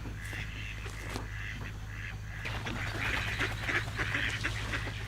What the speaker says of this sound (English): These are some mallards and some drakes